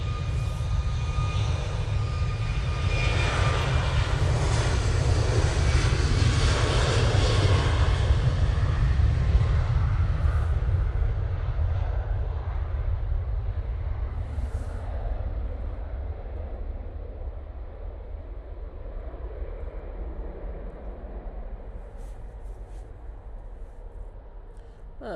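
A Boeing 737 MAX 8 jet takes off at Manchester Airport, a loud sustained engine roar that swells and then slowly fades as it climbs away into the distance.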